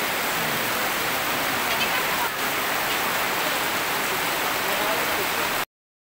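Steady rain falls as dense, even hiss and patter that holds for several seconds before the sound cuts off abruptly near the end.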